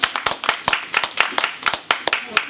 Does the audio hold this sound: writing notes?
no